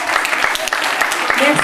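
An audience applauds school children after a performance on stage, steady dense clapping throughout, close and loud.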